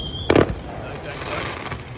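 Fourth of July fireworks in Gouverneur, New York: a single sharp, loud burst near the start, then a low crackling rumble that fades over the next couple of seconds, heard outdoors from a distance.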